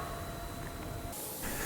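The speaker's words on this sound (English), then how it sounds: "Now I'm using a 2mm spray gun at about 35 psi and applying 3 even coats" A 2mm spray gun running at about 35 psi lays primer over sun-damaged paint, giving a steady, close, broadband hiss that holds evenly throughout, with a brighter surge of air near the end.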